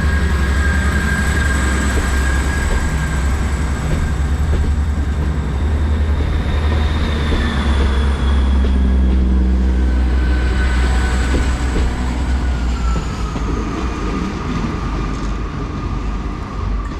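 A Great Western Railway passenger train departs for Portsmouth Harbour, rumbling steadily along the tracks nearby, with a low engine drone and faint high squeals from the wheels as it pulls away.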